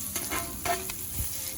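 Close, crackling sizzle of chili peppers frying in butter in a skillet, with a few soft stirring scrapes and no talking.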